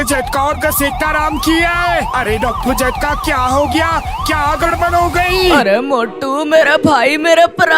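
Wailing ambulance siren in the Indian Bike Driving video game, its rising and falling tones repeating loudly and steadily for most of the clip over a game soundtrack, with someone talking excitedly throughout.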